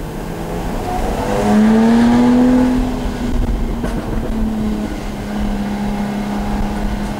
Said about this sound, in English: Let's see if we can hear the exhaust note a bit.